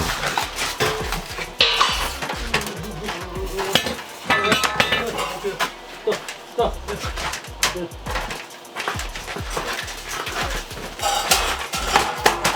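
Metal spikes being pried out of a steel H-beam during reinforcement work on a 105-year-old wooden building, with dense, loud clanking and scraping of metal, irregular knocks and rattles close up throughout.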